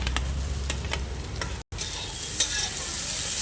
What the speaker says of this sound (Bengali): মাংসগুলো দিয়ে দাও যাতে একটু ভাজা ভাজা হয়